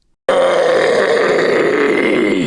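A voice lets out one sustained, loud, gravelly low scream, harsh and distorted, holding steadily for about two seconds.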